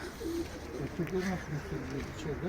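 Pigeons coo in low, repeated throaty phrases at a live pigeon auction, steady and close, with people talking over them throughout.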